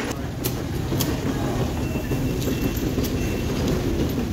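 A London Underground train rumbles at Baker Street station, a loud, close, low roar with sharp metallic clicks and squeals scattered across it.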